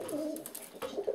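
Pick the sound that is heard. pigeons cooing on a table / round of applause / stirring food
pigeons cooing on a table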